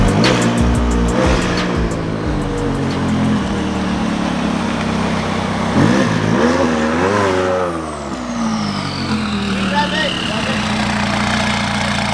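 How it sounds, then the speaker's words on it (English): A McLaren 570S sports car on a test drive, its engine revving and accelerating with rising and falling pitch sweeps from inside the car, while people talk over it. "So we're gonna go for a test drive, make sure everything's okay with the car."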